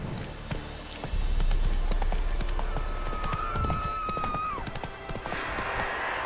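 Hooves of Roach, a horse in The Witcher 3, clip-clop steadily on the ground, with a brief whinny partway through, close and clear.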